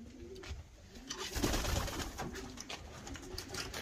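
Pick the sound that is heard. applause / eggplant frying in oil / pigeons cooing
pigeons cooing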